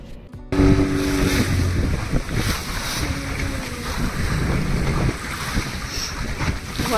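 A motor boat runs out at sea off a Goa beach for parasailing, its steady engine rumble mixed with the wash of waves and heavy wind buffeting the microphone throughout.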